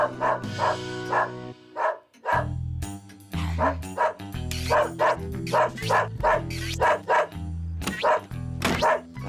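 A dog barks over and over in quick, rough bursts with yelps mixed in, loud and close, with brief pauses between volleys.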